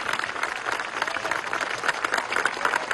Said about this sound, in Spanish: un aplauso a Mareli.